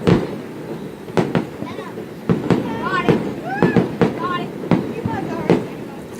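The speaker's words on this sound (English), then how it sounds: "fireworks these days seem to be getting shorter and shorter and shorter" Fireworks in Grenada pop and crackle in repeated bursts every second or so, fairly close and loud, with whistling rising streaks between the bangs and faint crowd voices underneath.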